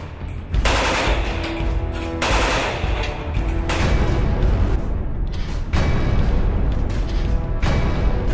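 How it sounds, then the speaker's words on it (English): Bulgarian AK-47 rifle with a plastic stock firing full auto, loud rapid bursts of gunfire broken by short pauses, close and booming, with no talking. "This particular one is a Bulgarian one. Plastic stock, and this one is full auto,"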